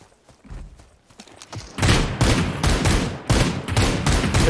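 In the game Super People, a rapid burst of gunfire cracks out in quick succession, loud and dense after a quieter opening with softer thuds.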